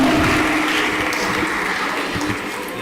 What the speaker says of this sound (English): Please, a strong applause.